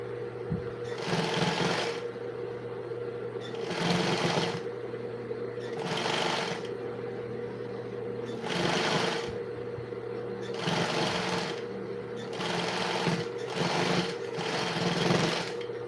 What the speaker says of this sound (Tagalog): So talaga nila yung may naririnig na tunog ng makina.